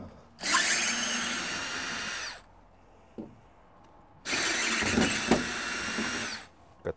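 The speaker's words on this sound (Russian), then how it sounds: "Так и сразу большие болты открутим." A power tool spins off large bolts on a Peterbilt 389 door during window regulator replacement, with two loud, sustained whirring bursts of about two seconds each, separated by a short pause with a faint clank.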